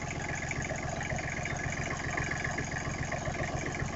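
Close and steady, a Briggs & Stratton small diesel idles with a continuous rapid chug and knock, loud and unchanging throughout, with no voices over it.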